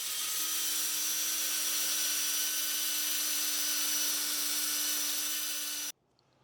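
A wet cherry burl bowl spins on a woodturning lathe while being sanded, a steady high whine with a constant motor hum that carries evenly for several seconds before cutting off abruptly near the end.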